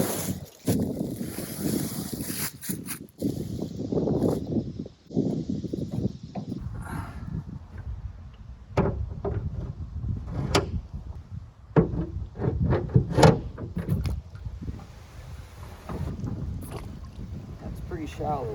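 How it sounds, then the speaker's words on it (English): Wooden oars working a small rowboat on a shallow pond outdoors, with irregular splashes and knocks against a steady wind rumble, and a voice talking intermittently over the water noise. "here I am out at the pond with the boat and some oars"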